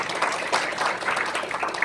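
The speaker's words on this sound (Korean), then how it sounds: "그런 박수로 환영해 주시기 바랍니다." A brief burst of crowd applause greets new recruits at a Liberty Korea Party welcome event, close and continuous for under two seconds.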